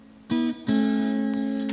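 Stratocaster electric guitar with a light chorus effect strums two chords through an amp, the second ringing on with a shimmering sustain, close and loud without any speech.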